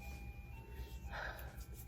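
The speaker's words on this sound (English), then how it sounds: "Normally the ice cream truck comes around in like an hour, but I haven't heard this song played from the ice cream truck" Ice cream truck jingle drifting in from outside, a faint, distant lullaby-like tune under a steady low background rumble, with no talking.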